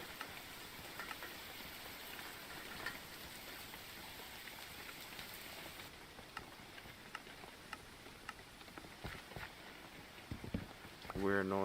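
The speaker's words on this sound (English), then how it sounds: "That was the rain, but for whatever reason it was making a tin like noise" Steady rain in a video game patters on a tin roof, a dense drumming hiss with scattered louder drops and a brief tonal sound near the end.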